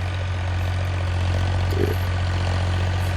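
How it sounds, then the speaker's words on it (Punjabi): A tractor in third gear ploughing a field with a rotavator near Mahal Kalan, Barnala, its engine a steady low drone with a constant rumble and no change in pace, close by. "3B ਦੇ ਵਿੱਚ ਟਰੈਕਟਰ ਚੱਲ ਰਿਹਾ ਰਾਈਟ ਨਾਓ"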